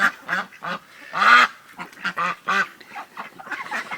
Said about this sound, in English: I gotta get that dang drake out of there